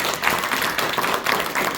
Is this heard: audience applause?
yes